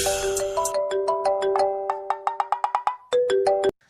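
A melodic phone ringtone plays alone, a bright repeating run of electronic notes in quick rhythmic bursts that grow sharper, then pause briefly before the tune starts again.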